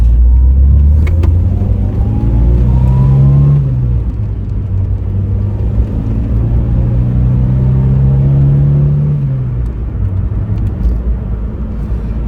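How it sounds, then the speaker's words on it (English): A Ford Fiesta RS1800 engine growls and revs close by, rising in pitch as it accelerates, easing off, then pulling again through the gears, loud and continuous. "That engine note is recognisable anywhere."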